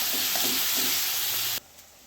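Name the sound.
onions with ginger and garlic paste sautéing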